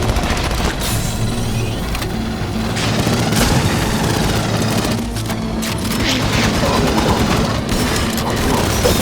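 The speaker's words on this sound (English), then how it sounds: "Gunfire" Dense gunfire fills a firefight in the Aliens: Fireteam Elite video game, a continuous loud barrage of rapid shots and booms with no pause throughout.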